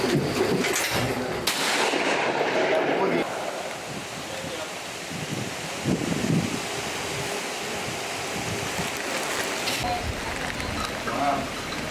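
A shoulder-fired gun fires once on an outdoor shoot, a sharp loud blast near the start that rolls off into a long rumbling decay, followed by wind-like noise and faint movement.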